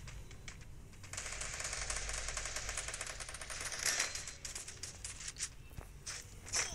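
Rapid automatic MP5 gunfire in the Free Fire battle game, Clash Squad ranked mode, crackles in a dense sustained burst ending in a headshot, with scattered footsteps and lighter shots around it.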